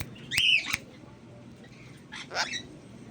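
A pet bird, a fully flighted hand-tamed timer bird kept without DNA testing, gives two short bursts of harsh squawking, one early and one near the end, over a low steady background hum.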